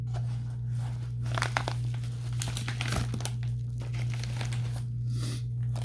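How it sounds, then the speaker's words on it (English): Packaged Xmods and Mini-Z RC car parts are unwrapped close by, producing continuous crinkling and crumpling of plastic and paper packaging with occasional tearing over a low steady hum, without any talking. "Now I'm gonna unbox these or unwrap these first"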